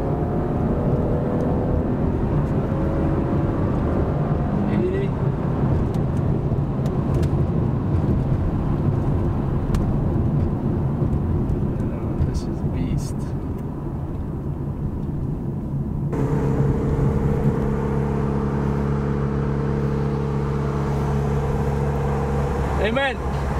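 A Lincoln MKZ AWD with a 3.0L engine tuned to 400 hp launches hard with traction control off, its loud engine roar building steadily and shifting partway through under voices talking in the cabin.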